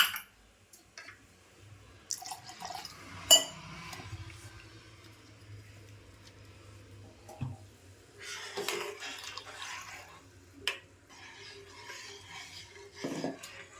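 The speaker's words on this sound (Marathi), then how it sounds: "आता हे मी ना मिक्सरच्या भांड्यातच ओतून घेते आणि मला अजून पाणी पण थोडंसं वाढवायचं आहे" Tomato kadhi and water being poured into a mixer jar, with scattered clinks of utensils against pots, light splashing and stirring at close range, mostly quiet between sounds.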